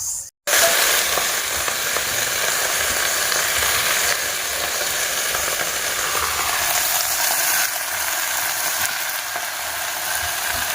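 Leafy kanshira greens cook in a pan with a loud, steady, hissing sizzle that runs almost unbroken for about ten seconds, close by, after a brief silence at the start.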